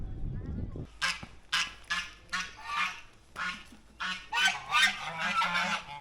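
Geese on a working farm that doubles as a hotel in northern Nicaragua honk loudly in a rapid series of harsh, overlapping calls, close by and nearly continuous after a brief low rumble at the start.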